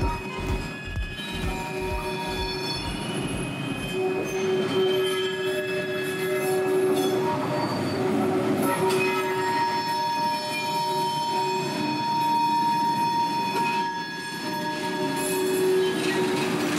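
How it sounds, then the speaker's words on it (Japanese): A one-car train hauled by a locomotive arrives on the Phnom Penh airport rail line. Rhythmic wheel clacks fade out early, then sustained high wheel squeals ring over a loud, steady rolling rumble as it draws in. "機関車に牽引された1両編成の列車がやってきた。"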